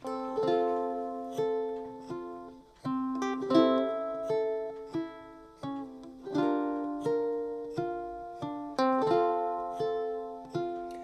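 Ukulele notes picked one at a time in a steady repeating three-step pattern, clear and close, with no voices.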